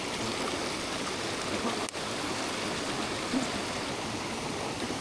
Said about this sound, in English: the main waterfall here